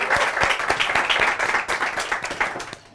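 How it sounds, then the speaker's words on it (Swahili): A studio audience at a Kenyan evening talk show claps for an artist, with dense, steady applause that carries sharp individual claps throughout and fades slightly at the end. "Tupige artist wetu makofi tafadhali."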